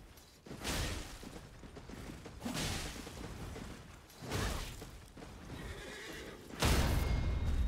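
A horse whinnies repeatedly in a video game set on the way to the Belfry Towers, several loud neighs and snorts spaced a second or two apart, with faint hoof and mechanical clatter beneath.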